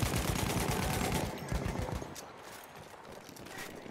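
Rapid gunfire in the Battlefield 1 Domination mode, a dense loud burst of shots for about two seconds that then fades into quieter distant battle noise.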